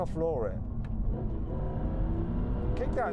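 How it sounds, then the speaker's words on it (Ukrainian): A supercar's engine pulls hard under a full-throttle kickdown, giving a steady, loud, close-up drone with layered harmonics that lasts the whole stretch, and a voice is briefly heard over it. "А якщо повністю натиснути на акселератор."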